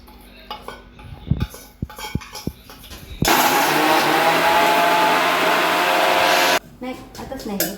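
A mixer grinder whirs loudly and steadily for about three seconds, grinding fried red chillies, cumin, curry leaves and garlic. Before it starts, utensils clink and tap in a home kitchen.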